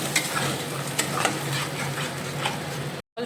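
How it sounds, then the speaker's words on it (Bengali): Spice masala sautés with butter and cumin in a pan, a steady close sizzle broken by scraping stir strokes and light clicks, cutting off abruptly near the end. "মশলা করে রেখেছি, অল্প একটু মাখন দিয়েছি আর জিরে, এটা দিয়ে এবার কষিয়ে নেব।"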